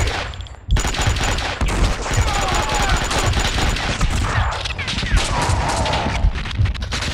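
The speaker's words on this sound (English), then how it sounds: "Someone must have heard the gunfire." Gunfire in the shooter game Max Payne 2 rattles out as loud, sustained volleys of rapid shots, with faint voices buried beneath the barrage.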